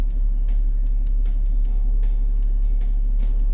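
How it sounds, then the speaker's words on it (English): A BMW 6 GT shifted into drive starts rolling forward, a low steady engine rumble close by with faint ticking and periodic soft whooshes, no talk. "Now it's D, and the car starts moving."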